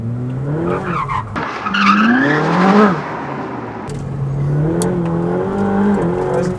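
A Ferrari 458 Speciale slides and skids, tires squealing in long wavering tones over a loud engine that drops in pitch and then rises again.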